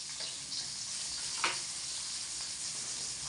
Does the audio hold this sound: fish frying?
yes